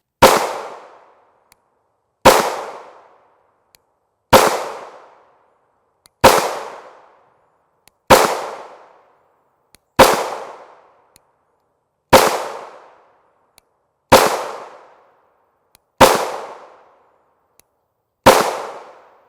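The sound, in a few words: 9mm pistol firing 124 grain FMJ rounds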